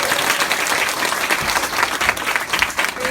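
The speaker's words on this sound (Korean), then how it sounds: "다시 한번 큰 박수 부탁드립니다" Audience applause fills a seminar hall at the close of a network marketing lecture, dense steady clapping from many hands at fairly close range, with no talk over it.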